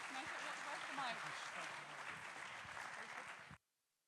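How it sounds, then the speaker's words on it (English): An audience at a media industry talk applauds with a dense, sustained round of clapping close by, under some voices, which then cuts off abruptly into silence. "Round of applause, please"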